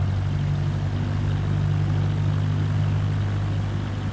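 Aircraft propeller engine held at 1,500 RPM in Microsoft Flight Simulator 24 on a rough dirt strip, a steady, loud droning hum with an unbroken low tone throughout.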